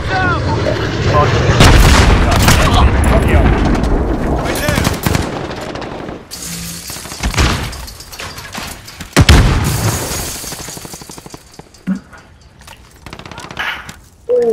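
Heavy bomb explosions and sustained machine-gun fire fill a video game firefight, loud and near, with booming blasts and rapid bursts that keep coming and going while voices shout over the chaos.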